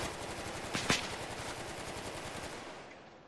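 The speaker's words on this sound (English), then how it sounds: "Stop, we're taking fire from somewhere." Gunfire in the military video game Arma 3: a couple of sharp nearby shots stand out over a dense, continuous roar of distant battle noise that slowly fades.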